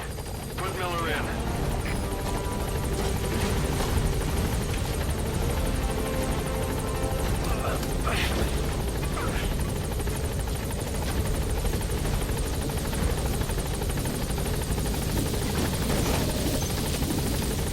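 A helicopter flies in Metal Gear Solid V: The Phantom Pain, with steady loud rotor and engine roar filling the whole stretch. A voice talks over it.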